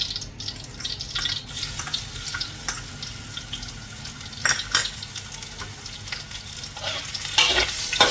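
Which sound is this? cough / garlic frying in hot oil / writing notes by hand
garlic frying in hot oil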